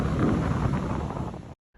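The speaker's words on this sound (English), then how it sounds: "It was windy as fuck." Loud, roaring wind on a beach at South Padre Island during a storm buffets the microphone in a steady rush, then cuts off abruptly.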